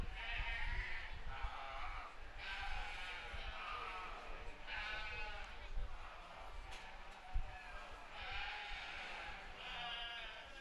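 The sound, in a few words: sheep bleating at county fair show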